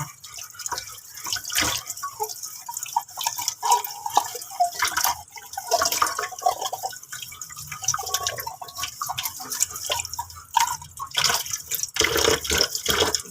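A stainless steel cup from tube-feeding equipment is rinsed and washed under running water, with steady dripping and splashing close by and no talking.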